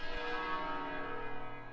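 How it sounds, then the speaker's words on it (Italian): Church bells of Balerna ringing, a sustained, resonant metallic toll with long humming overtones that hangs evenly through the short stretch, with no voices. "Ma le campane di Balerna sono sempre state una cosa impossibile."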